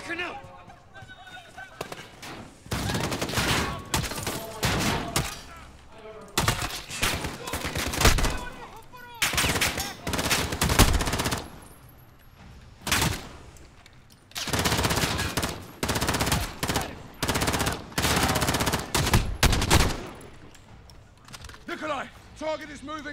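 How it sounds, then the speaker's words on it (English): Heavy gunfire rattles in Call of Duty: Modern Warfare campaign combat, dense automatic bursts and loud shots in repeated volleys separated by short lulls, with voices in between. "How? The gunshots, of course."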